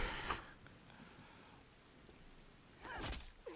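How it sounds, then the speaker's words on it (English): Steady rain falls in The Last of Us, a soft continuous wash at low level with a couple of brief louder bursts near the start and end, no voices. "And just the rain coming down."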